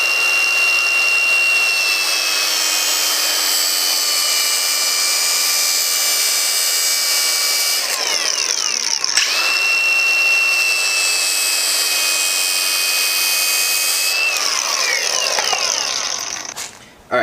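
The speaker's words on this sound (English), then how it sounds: "So I'm actually going to go ahead and cut this down with a grinder" An angle grinder cuts through a catch can hose line on a car, a loud, steady high whine held for many seconds with brief dips as the cut shifts, close up with no talk.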